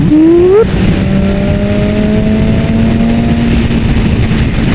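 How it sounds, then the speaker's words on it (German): A 2019 BMW S1000RR superbike pulls hard in sixth gear, its engine tone rising sharply at first then holding a loud, steady high drone with strong wind noise throughout. "Wir sind jetzt im 6. Gang und wenn ich jetzt Gas gebe,"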